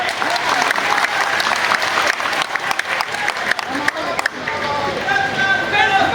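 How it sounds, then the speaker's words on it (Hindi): Loud, sustained applause from a large audience at a political rally in Muzaffarpur, Bihar, a dense clapping texture that holds steady for several seconds with crowd noise mixed in. "तो उनका तो आपकी ताली से, श्रोताओं की ताली से हौसला बढ़ता है"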